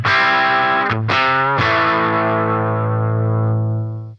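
Through a Fender Champion 50XL amp on its secondary crunch setting, an electric guitar strikes a few quick distorted chords, then lets one ring out long and loud up close, slowly fading, with no talking.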